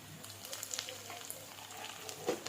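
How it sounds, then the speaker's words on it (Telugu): Onion dry-roasts and fries in a pan with a quiet, steady sizzle and crackle, a brief low scrape of stirring near the end, and no speech over it. "ఇలా ఆనియన్ని డ్రై రోస్ట్ చేసుకోవాలి"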